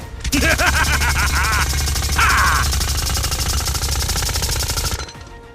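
A Gatling gun fires in a fighting video game, a loud, rapid, unbroken mechanical rattle lasting about five seconds before cutting off abruptly, with bright whirring tones layered on top.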